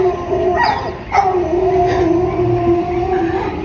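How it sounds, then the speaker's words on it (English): Several dogs howl and whimper in long wavering tones, loud and close, over steady background noise, with a brief yip partway through. "listen to these dogs howling. They're like crying"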